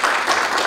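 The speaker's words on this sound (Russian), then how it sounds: "ваши аплодисменты." A short burst of dense audience applause at a ceremony for a new residential district in Tula, steady clapping from many hands, close and fairly loud.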